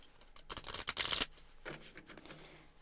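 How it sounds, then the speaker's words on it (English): Cards are shuffled in quick riffling bursts, a close, crisp flutter followed by softer tapping and sliding of the deck. "These are really nice to shuffle cards."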